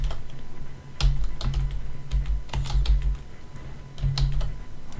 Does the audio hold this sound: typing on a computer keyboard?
yes